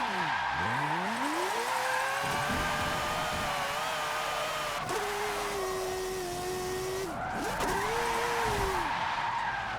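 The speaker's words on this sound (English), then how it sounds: "I'm just impressed how freely these rear wheels just spin." A rotary-swapped car in Forza 7 revs hard with its rear wheels spinning freely, engine pitch sweeping up and down while tires squeal and skid almost continuously, loud and close.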